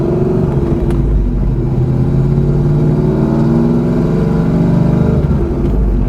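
Pontiac Trans-Am WS6 engine drones loud and close as the driver shifts from third to second, a steady low rumble with rising harmonic sweeps.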